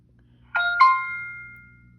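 Two-note electronic chime rings clearly from a light bulb camera's small speaker, the second tone lingering and fading over a faint background hum.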